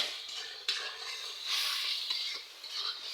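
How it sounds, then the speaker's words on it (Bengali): Spice paste with chili and salt sautéing in a pan for a country chicken curry, a soft steady sizzle broken by scraping stirs and a few sharp utensil knocks against the metal, close and moderately quiet, with no voices. "ভালোভাবে কিন্তু মশলাটাকে কষিয়ে নিতে হবে"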